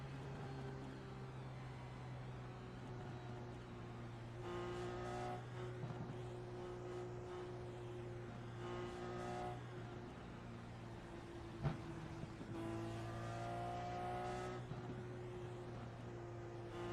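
Race cars lap a track during a race, a steady layered engine drone with harmonic whines rising and falling as cars pass, and a brief sharp knock near the end.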